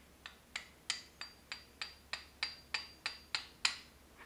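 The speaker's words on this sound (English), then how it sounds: "And hammer it, keeping pressure on the punch." Metal hammer strikes on a punch driving a pin from a Canik / Tristar P120 pistol slide, about a dozen sharp ringing taps at a steady rhythm, close and clear with no talking.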